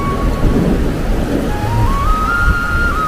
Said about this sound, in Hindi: तूफान के साथ बारिश आ गई।